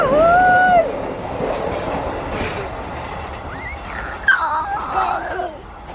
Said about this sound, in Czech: A tady pojede vlak